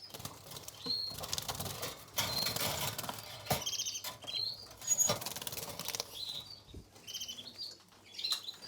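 A young crested Gloster canary flaps its wings in short, close fluttering bursts, mixed with thin chirps and scratchy rustles between quieter pauses.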